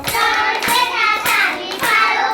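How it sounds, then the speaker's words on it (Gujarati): Three sharp hand claps spaced about half a second apart, on the count of three in a Gujarati children's action song, with a sustained singing voice carrying over them. "ત્રણ કરતા તાળી પાડો"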